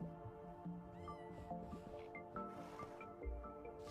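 A Minecraft Bedrock Edition cat meows a few times in short, close calls over a steady game backdrop of soft ambient tones and small effects, with no one talking.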